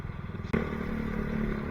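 Motorcycle weaving through congested city traffic, its steady engine drone running close and continuous with a sharp clatter at the start, no one talking.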